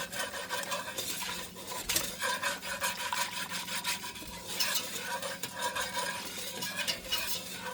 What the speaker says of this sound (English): So I'm just going to cook this flour.